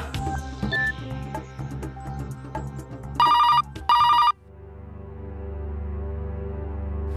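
A telephone rings in two loud bursts in a domestic comedy scene, the second burst following shortly after the first, then a low steady hum remains once the ringing stops.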